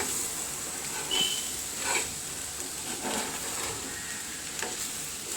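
Fish stir-fries in a pan with a soft, steady sizzle as its water cooks off, with periodic scraping bursts as it is stirred, fairly quiet and close.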